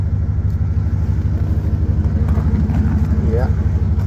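A 1998 Dodge Ram 1500 truck exhaust idles with a steady, deep low rumble, close and continuous throughout, with a person talking over it.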